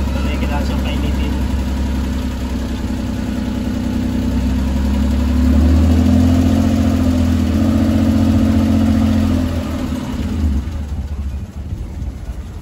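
A multicab's engine warms up after an oil change, idling loudly and steadily, then rising in a sustained rev before dropping back to a rougher idle near the end.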